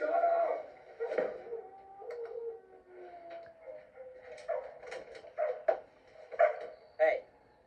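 A dog barks in a series of sharp, moderately loud barks, spaced irregularly and growing more frequent toward the end, with some voices mixed in.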